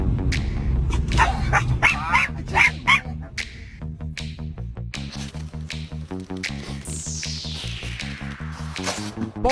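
A dog barks and yips repeatedly in short bursts, close and fairly loud, with some whimpering and a rising whine among the barks.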